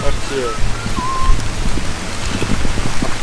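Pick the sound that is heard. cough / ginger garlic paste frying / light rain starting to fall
light rain starting to fall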